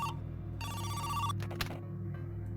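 A phone ringtone in a video game plays a brief, bright electronic ring over a low steady background hum, with no talk.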